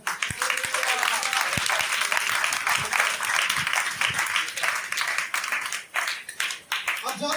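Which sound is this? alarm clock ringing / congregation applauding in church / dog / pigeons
congregation applauding in church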